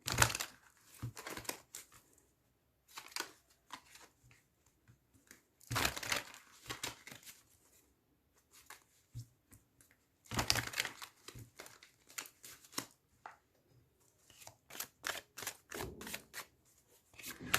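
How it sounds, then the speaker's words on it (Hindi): Tarot cards mixed by hand, giving quiet bursts of crisp riffling and crinkly flutters separated by near-silent pauses, with no talking. "तो चलिए, पहले हम कार्ड्स को अच्छे से मिक्स कर लेते हैं।"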